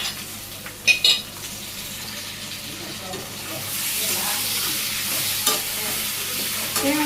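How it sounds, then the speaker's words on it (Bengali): Pumpkin pieces stirred into fried turmeric and chili spices in a pan, opening with a couple of sharp clanks of utensil on metal, then a steady sizzling fry that grows louder and continues with faint scraping. "ভালোভাবে মশলাগুলোর সাথে মিশিয়ে সুন্দর করে কষানো"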